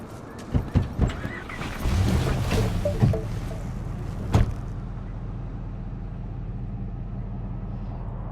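A car in the Cyberpunk 2077 Phantom Liberty video game starts off and drives, with a few door or engine thumps early on, then a steady low rumble of road and engine noise continuing to the end.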